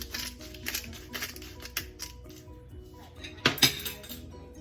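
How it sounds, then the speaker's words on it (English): Regular black pepper grains ground by hand, a run of light clinking and grating taps with a sharper metallic clatter near the end, close and fairly quiet. "I am going to be grinding some black pepper. This is just regular black pepper grains"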